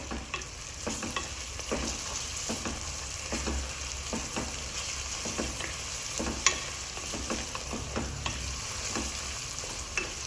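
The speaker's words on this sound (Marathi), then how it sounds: "कांद्याचा कलर चेंज होतोपर्यंत आपण ह्यामध्ये फ्राय करणार आहोत तेलात।" Onions fry in oil in a pan, giving a continuous close sizzle with scattered light stirring taps and clicks throughout, steady in level and free of speech.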